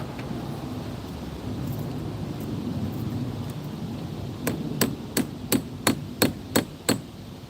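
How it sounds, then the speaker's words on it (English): A hammer strikes metal eight times in a steady rhythm while someone works on a vehicle's battery terminal, each blow sharp and close, after a stretch of outdoor wind and background rumble. "Why is he using a hammer?"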